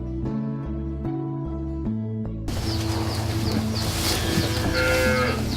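Cattle moo loudly and close, long drawn-out lowing calls overlapping one another, with a few faint bird chirps in the background.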